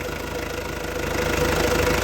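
A 2.5-litre car engine runs steadily close by, with a continuous mechanical drone and a regular low knocking pulse that grows slightly louder toward the end.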